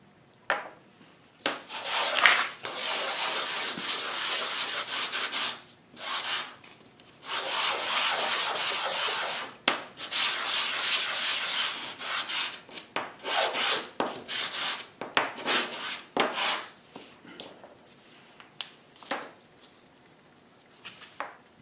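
Maple wood segments are hand-sanded in repeated bursts of rubbing, scratchy strokes lasting a second or several seconds, separated by short pauses, close to the microphone with no talking.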